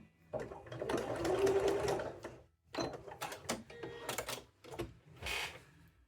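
Domestic sewing machine stitching a seam on a tailored jacket fabric, running in short close bursts of rapid mechanical whirring separated by brief pauses, with no speech.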